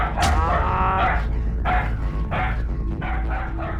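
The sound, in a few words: dog barking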